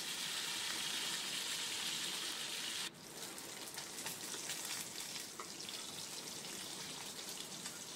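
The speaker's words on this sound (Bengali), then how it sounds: "মাছগুলো আমি ভেজে তুলে নিলাম।" Katla fish pieces fry in hot oil with a continuous dense crackling sizzle, fairly close and even, with a brief dip partway through before the bubbling carries on.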